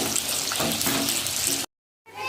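Potato chips frying in hot oil in a home kitchen, a steady loud sizzle that fills the first part and then cuts off abruptly before resuming briefly.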